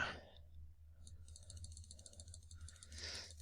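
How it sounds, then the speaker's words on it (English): A computer mouse clicks while trading charts are backtested, giving a few quiet, sparse clicks over low background hum. "you're going to hear a lot of clicking"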